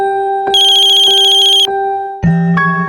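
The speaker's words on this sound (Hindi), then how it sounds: "विक्रम, तुम फोन क्यों नहीं उठा रहे हो मेरा?" A phone rings with a bright electronic ringtone in repeated bursts, loud and close, then a click as it's picked up.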